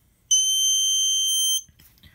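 A Snap Circuits phototransistor alarm, set off when light to the sensor is blocked, emits a single steady, piercing electronic tone that holds for about a second and a quarter and then cuts off, with faint noise after.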